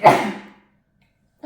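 A single sharp, loud sneeze bursts out close by and decays within half a second, followed by silence and the start of a voice at the very end.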